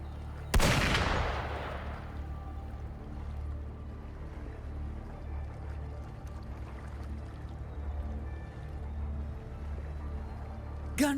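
One sharp, loud gunshot in the Wuthering Waves video game, followed by a long fading echo over a low ambient drone and a faint later thump.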